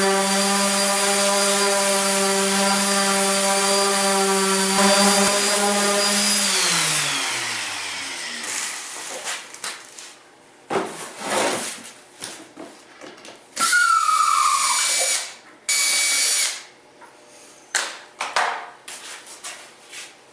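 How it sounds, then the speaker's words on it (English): An orbital sander whines steadily for several seconds while sanding a gas tank template for a Honda Sabre cafe racer, then spins down. Scattered clattering and brief bursts of shop noise follow. "Now I'm going to sand this with the orbital sander to get rid of all the fuzzies."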